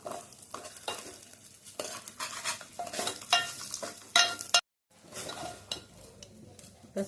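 Green gram dal frying in a pan with browned onions, a soft sizzle under repeated scraping and stirring strokes of a utensil against the pan, with a brief silent gap partway through.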